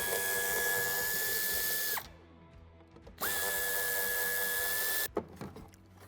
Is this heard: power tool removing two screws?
yes